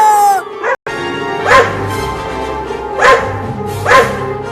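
A dog barks in a few sharp, spaced bursts, loud and close, with whimpering, yip-like tones between them in a home comedy scene.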